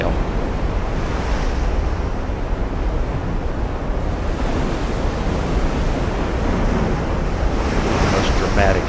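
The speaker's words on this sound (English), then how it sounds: "Look at the foam on the waves." Ocean waves wash continuously with foamy surf and wind in the naval battle game Ultimate Admiral: Dreadnoughts, producing a loud, dense, unbroken roar across the whole stretch.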